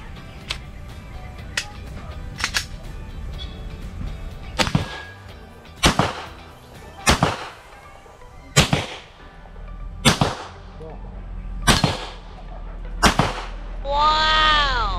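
Glock 17 pistol shots ring out at an outdoor firing range, about ten sharp single reports spaced a second or so apart, each with a short echo and with quiet between them.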